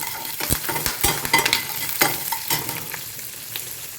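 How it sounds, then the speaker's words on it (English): A spoon scrapes and clacks repeatedly through urad dal, curry leaves and mustard seeds frying in oil for raw banana poriyal, sharp stirring knocks over a continuous close sizzle, with no talking. "Now I'm adding some urad dal and curry leaf. So gently stir it."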